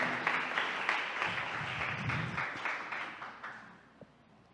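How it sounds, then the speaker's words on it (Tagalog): Church congregation clapping together in rhythmic bursts, a loud, roomy patter of many hands that gradually fades and thins toward the end. "Pumalakpak po tayo sa ating pinakamamahal ng Panginoon."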